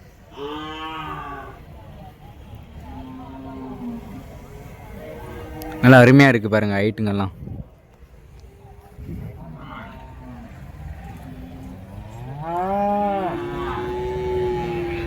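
Draught cattle at Vaniyambadi cattle market, brought in from Andhra, give a loud drawn-out moo midway through as someone speaks before and after it.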